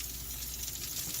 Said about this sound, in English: I'm quite sure you can hear the sizzle of the green beans, carrots, and meatballs.